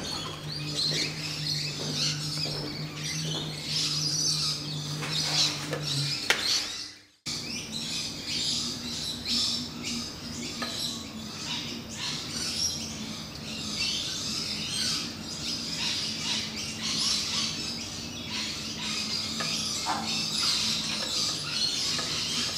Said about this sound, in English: Those birds are beautiful, aren't they?